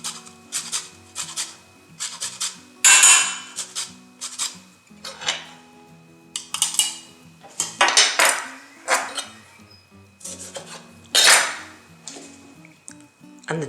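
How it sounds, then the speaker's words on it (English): Lime being zested for guacamole, quick scraping rasps against a grater in short irregular bursts, close and crisp, with faint clinks of kitchenware between strokes. "Then I'm going to add in a little bit of lime zest."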